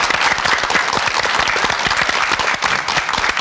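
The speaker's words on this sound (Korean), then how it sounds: "여러분 박수 보내주세요." Studio audience applause on a Korean television program about foster parents, loud dense clapping that fills the whole moment steadily without a break.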